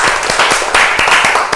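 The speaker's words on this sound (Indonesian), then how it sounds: "Tepuk tangan buat." A short burst of steady classroom applause during a microteaching session, with many hands clapping together in a dense, continuous patter and a few sharper claps standing out.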